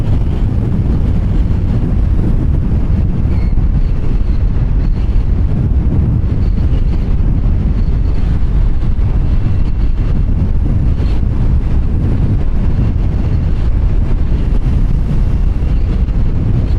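Steady, loud wind roar buffets the microphone while riding a Can-Am Pulse motorcycle, a continuous broadband rush that stays unbroken for the whole stretch with no talking.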